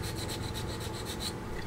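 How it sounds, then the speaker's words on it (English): A hobby knife shaving plastic from a part of a 1/25 Fujimi Shelby Cobra model kit, short rhythmic scraping strokes repeated about nine times in quick succession, close and quiet with no talk. "Trimming it with a knife is easier when you're only taking off a little"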